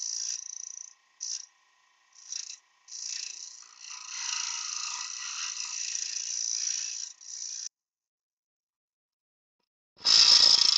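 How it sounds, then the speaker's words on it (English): Round nose scraper working over a wooden drinking flask on a lathe, giving bursts of bright scraping in short strokes and then a longer steady pass, stopping and resuming once near the end, close and fairly loud. "use my round nose scraper to tidy that up"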